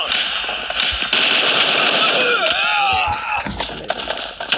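Kar98 bolt-action rifle shots ring out in a shooter video game. Sharp cracks come in bursts, layered with game effects and ringing tones, loud and close.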